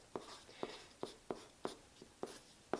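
Pen or marker strokes writing out a calculus equation for area between curves, about eight short taps and scratches in a steady rhythm, close and quiet with no voice.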